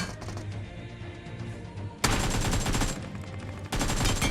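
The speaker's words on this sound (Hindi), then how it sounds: "अब मेन वाली जगह से काफी ज्यादा फायरिंग की साउंड आ रही थी" Gunfire in the mobile battle royale game Battlegrounds Mobile India comes first as a lighter burst and then as two loud, dense bursts of rapid automatic fire.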